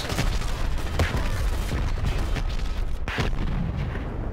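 Dense, booming gunfire and explosions in the shooter game Dirty Bomb, a continuous loud barrage with heavy low rumble and a few sharper cracks.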